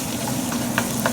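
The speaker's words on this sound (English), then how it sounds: "we'll add the ground meat and then break it up" Cold ground meat cooking in a pan while being broken up, a soft steady sizzle with a couple of light scraping taps, brief and close.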